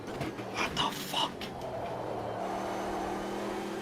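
A race car engine in the racing game Automobilista 2 at Laguna Seca holds a steady droning tone that shifts pitch partway through, running under a few brief fainter sounds early on.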